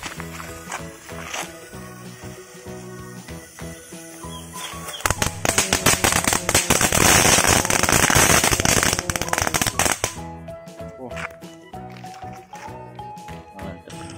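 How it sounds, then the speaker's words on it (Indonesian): A string of chili firecrackers crackles in rapid, sharp pops, building to a dense burst of bangs before scattered snaps trail off. "Kita nyalakan mercon cabai."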